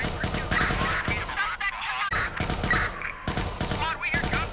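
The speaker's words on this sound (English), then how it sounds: "Squad, we hear gunfire." Rapid bursts of automatic gunfire crackle through the clip alongside loud effects from the video game Watch Dogs 2, dense and close, with voices faintly mixed in.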